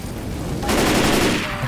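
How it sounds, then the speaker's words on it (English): Dense, continuous automatic gunfire erupts in Left 4 Dead 2, a loud rapid rattle that starts abruptly and holds for about a second over game noise. "Stop shooting!"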